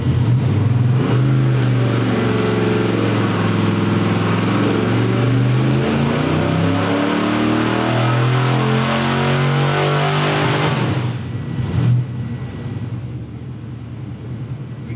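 A 450-horsepower small-block Chevy V8 on a dyno revs hard and holds high, steady, loud engine roar for about eleven seconds, then drops off sharply and settles to a lower rumble.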